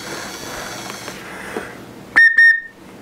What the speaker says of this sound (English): It's even got the little ball inside the whistle